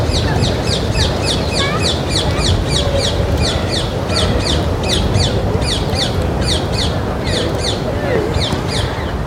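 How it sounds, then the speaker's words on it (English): Ring-necked parakeets in Regent's Park, London give rapid, repeated shrill alarm calls in quick bursts throughout, fairly close, over a steady background hum. "I'm just checking to make sure that there isn't anything else that's causing them to make their alarm call."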